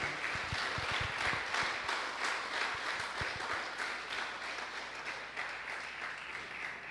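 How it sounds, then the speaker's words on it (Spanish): A church congregation breaks into loud, sustained applause during a worship service, a dense wash of many hands clapping steadily for several seconds with a few sharper claps standing out. "Dele ese fuerte aplauso al que vive,"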